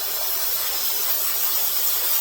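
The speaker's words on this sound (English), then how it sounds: "We're just going to rinse the dried oil off of that thing." Cleaner sprays steadily onto a McCulloch PM700 chainsaw carburetor to rinse off dried oil, a close, even hiss holding constant for a couple of seconds without pause.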